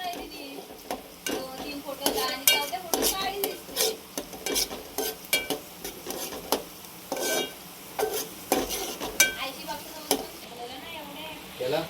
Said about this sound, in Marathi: टाकला मसाला, हिंग, हळद. आता जरा भाजू दे त्याला व्यवस्थित.